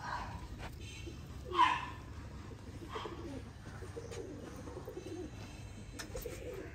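Breeder pigeons kept for sale in Sialkot coo softly and intermittently over a low background hum. A faint murmur of voices sits in the distance.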